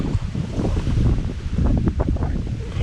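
Strong storm wind buffets and roars against the microphone in continuous loud gusts, rumbling low and steady throughout with no voices.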